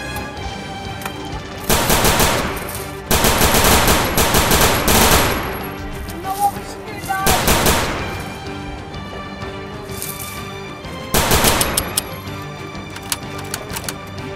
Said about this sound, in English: Then Captain Nerva and his squad were under heavy machine gun fire.